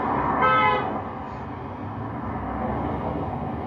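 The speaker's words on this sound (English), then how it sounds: "Not sure what that honk was for." A short horn blast near the start, slightly distant, followed by a faint second toot over a low rumbling street background.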